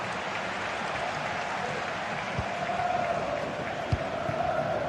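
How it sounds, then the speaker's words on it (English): Crowd noise from a simulated stadium in a GT Sport league broadcast, a steady wash of roaring, cheering and applause that swells slightly and holds at a constant level, with no clear voices on top. "The crowd certainly think so. Just listen to that noise."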